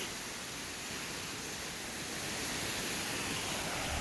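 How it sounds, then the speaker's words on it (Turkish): Gelintülü waterfall at Ayder plateau, a broad steady roar of falling water, constant and fairly soft with no voices. "Evet burada güzel bir şelale var."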